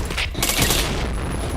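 A short, sharp volley of gunfire sounds in a shooting video game, a loud cluster of shots fading into a ringing tail.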